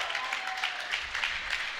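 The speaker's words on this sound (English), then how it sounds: "Finally some good excitement from the crowd, though" A crowd at an indoor archery competition, the Winter Can-Am Classic in Syracuse, New York, breaks into a short burst of moderate applause with scattered claps. A faint voice can be heard beneath it.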